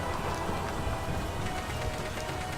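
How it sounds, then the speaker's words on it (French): Steady rain ambience for a tabletop role-playing game session, a dense, continuous patter of drops on surfaces at moderate loudness with no voices. "Sous la pluie."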